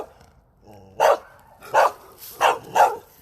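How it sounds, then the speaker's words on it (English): A dog barks four times in a steady, evenly spaced run, fairly close and clear, with quiet outdoor background between the barks and no talking. "This is a dog."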